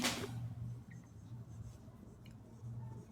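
A pen scratches steadily across paper at close range as a definition is handwritten for a Class 12 physics lesson on nuclear reactions, a soft continuous scribble over a low background hum.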